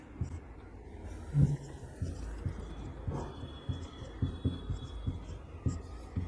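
Pen or marker strokes writing out an arithmetic answer during a maths lesson on arithmetic progressions, a series of short scratchy taps and scribbles at close range with low room noise behind.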